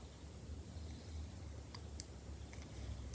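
Jewellery wire for a vintage fuchsia necklace is trimmed with small cutters, giving one sharp snip right at the end after a near-silent stretch with faint handling ticks.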